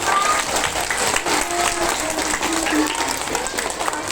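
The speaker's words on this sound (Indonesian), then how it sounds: "Tepuk tangan sekali lagi yang meriah." Steady audience applause fills an elementary school's Maulid Nabi commemoration in Tarakan, dense and continuous throughout with crowd voices mixed in.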